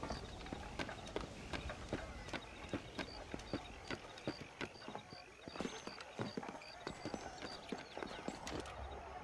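Horse hooves clatter at a gallop in the video game Red Dead Redemption, rapid steady clip-clop beats close by, with voices talking over them.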